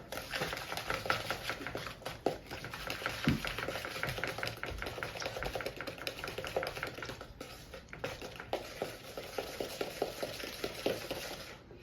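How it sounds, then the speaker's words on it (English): A spoon or whisk beats egg with sugar and butter in a bowl for chocolate pancake batter, giving fast, steady, close clicking strokes with no talk. "Want to go for a nice little beat, so make sure the egg mixes in with the sugar and butter."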